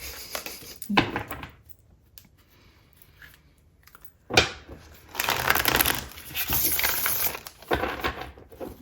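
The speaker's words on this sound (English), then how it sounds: "All right, one more shuffle, one more shuffle." Tarot cards are shuffled during a card reading in several rustling, riffling bursts, some louder and longer than others, separated by near-silent pauses, with no speech.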